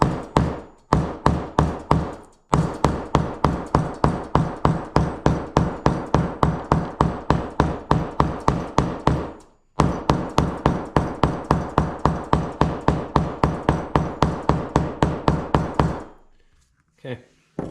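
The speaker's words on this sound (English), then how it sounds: "Hammer them together." Rapid, steady hammer blows joining leather pieces on a hard surface, dozens of sharp knocks in quick succession with two brief pauses, close and loud.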